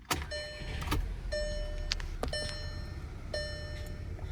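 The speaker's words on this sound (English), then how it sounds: "what you do is you turn the car on." A Volkswagen Passat CC from 2009 or later is switched on, with a repeating pattern of electronic chimes and soft clicks over a low idle hum in a quiet cabin; nobody speaks.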